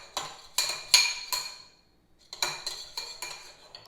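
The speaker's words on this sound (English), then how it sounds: "you're going to take a spoon and you're going to stir the spoon" Spoon clinking against a bowl while stirring honey mustard, in two bursts of quick, bright taps separated by a short pause; close and clear with no voices.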